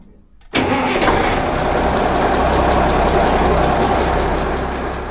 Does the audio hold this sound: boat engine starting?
yes